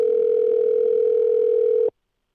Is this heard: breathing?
no